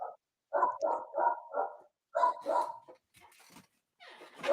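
A dog barks repeatedly in short bursts, several sharp barks in quick rhythmic clusters at moderate distance, with no talking over it.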